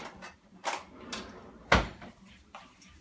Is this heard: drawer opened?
yes